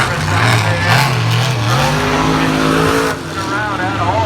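A monster truck driven hard in an arena, engine roaring loudly throughout with shifting pitch and tire noise, heard close with an announcer's voice and crowd mixed in over it.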